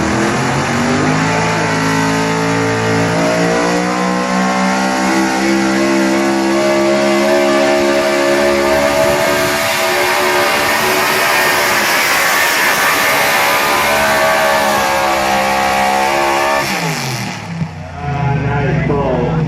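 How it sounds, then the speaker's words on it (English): A 1997 Ford diesel pickup in an open stock truck pull roars loud and close, engine revving hard and sustained for about seventeen seconds before cutting off abruptly, with an announcer's voice over the engine. "another diesel truck"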